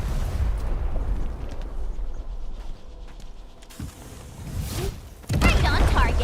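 A loud explosive blast erupts near the end in Arknights Endfield, a sudden heavy boom with a crackling burst following quieter mechanical clatter and muffled impacts, with a voice speaking underneath.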